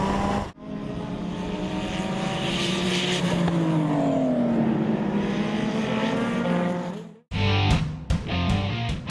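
Race cars roar past on a track during Mark 1 Golf road racing, a loud sustained engine drone with pitch sweeps, a brief cut, then more close engine noise and sharp bursts.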